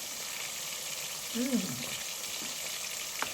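Constant bubbling sizzle of a pot of sothi, a cassava and sardine curry, simmering on the stove, with a brief spoken word in the middle and a small clink near the end.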